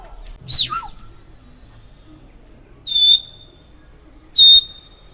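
Pigeons in a Turkish loft give three short, separate calls spaced a couple of seconds apart, clear and fairly close against a quiet background.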